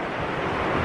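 The river at Kootenai Falls rushes in a steady, broadband roar, loud and close, with wind buffeting mixed in, heard alone for under a second with no voices.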